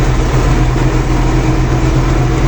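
An MTZ tractor pulls a cultivator across a field, giving a steady, loud low engine drone that runs unbroken throughout, with no voices.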